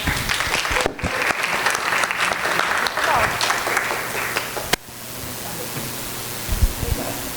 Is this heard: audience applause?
yes